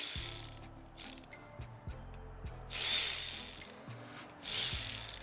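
A ratchet wrench clicks in slow, repeated strokes as cam cap bolts are loosened on a Jeep Pentastar 3.6L engine, with faint rushing bursts between turns, close and fairly quiet.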